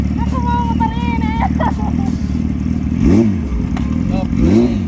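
A big, costly motorcycle rumbles and revs in a busy indoor setting, its engine note swelling twice toward the end while people chatter continuously over it.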